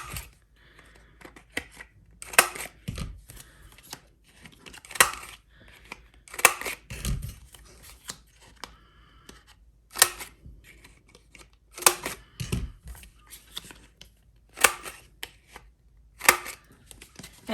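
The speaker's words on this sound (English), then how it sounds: "you can go through multiple layers just as easily with your Crop-a-Dile hole punch and eyelet setter" Crop-a-Dile hole punch and eyelet setter cutting tag corners from 12x12 cardstock, making sharp, crisp snips in irregular pairs and clusters, close and distinct against a quiet background.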